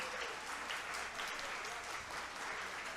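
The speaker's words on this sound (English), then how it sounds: "round of applause for both of our fighters" A crowd at a kickboxing event applauds both fighters after a bout, with steady, dense clapping filling the whole stretch at an even level.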